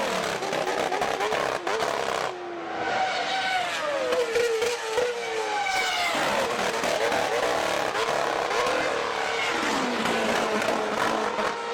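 Formula 1 car of the 2011 season, engine revving high and screaming through rising and falling gear changes, loud and continuous, with pitch sweeps as it accelerates and shifts.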